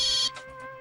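A phone ringtone from an incoming call chimes loud and bright for about a third of a second, then cuts off, leaving a faint fading tail.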